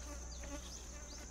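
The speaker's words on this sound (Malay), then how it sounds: "dia ada lalat lah sikit, biasa kan benda berbau." Flies buzz steadily and close by around fish being sun-dried outdoors, a continuous droning whine with several passes sweeping nearer and away.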